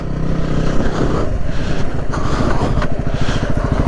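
A vehicle engine downshifts into second gear, giving a loud, close, continuous rumble with pulsing throttle changes and no voices.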